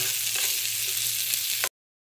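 Chopped onions dropped into hot oil for baigan bharta give a steady, close, loud sizzle that fries continuously and then cuts off abruptly.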